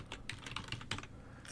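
Fingers type a short word on a computer keyboard, about eight quick, light key clicks in an uneven run, close and quiet with no voices.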